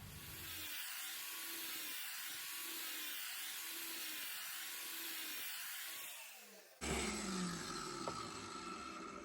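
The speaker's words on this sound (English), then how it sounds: "I'm pretty much just gliding it right across the surface of the blade." An angle grinder glides lightly across a Scag V-Ride 2 mower blade during sharpening, giving a steady loud grinding whine that stops briefly and then resumes with a harsher, brighter tone.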